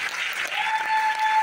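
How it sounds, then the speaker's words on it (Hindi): Audience applause at an NTC stage-sharing business event, a dense, steady wash of many hands clapping that fills the whole moment at even loudness, with a faint tone running underneath. "दिल से जोरदार तालियां दी"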